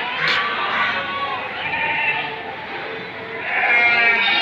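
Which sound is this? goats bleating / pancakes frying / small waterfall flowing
goats bleating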